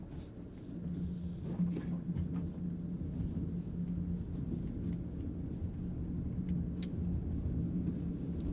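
Land Rover Defender 90 Trophy in a driving video game, grinding through deep snow in automatic mode, a low steady engine rumble with faint scattered crunching and clicks, moderately quiet, with no talk.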